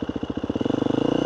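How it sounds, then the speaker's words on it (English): A dirt bike engine runs close by with a rhythmic pulsing idle, then picks up speed as a little throttle is added, the beats quickening over about a second. "to where you hear the engine start to pick up a little bit of RPM"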